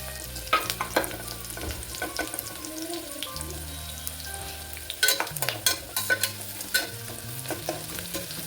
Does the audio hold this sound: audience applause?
no